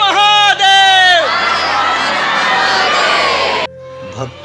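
Dense crowd of devotees on the pilgrimage path at Baba Baijnath Dham jyotirlinga, loud and close, with shouted calls rising over a continuous roar of many voices, cutting off abruptly near the end.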